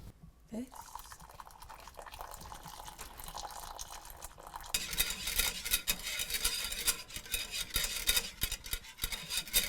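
Boiled cream and lemon mixture for lemon posset is stirred together, quiet clinks and liquid swishing at first, then a denser rapid whisking rattle growing louder; a voice talks over the opening part.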